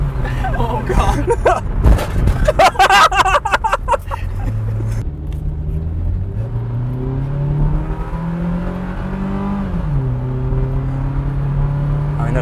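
A car pushed hard over a bump, its engine roaring and revving with pitch climbing and sagging, plus a burst of knocks and rattles early on before a steady loud strain.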